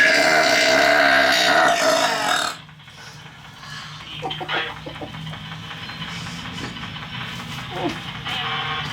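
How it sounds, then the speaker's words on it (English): Loud, drawn-out burps from a person, a long guttural belch up front followed by quieter grunting and shorter burp-like bursts against a dim background. "Do you like my burps?"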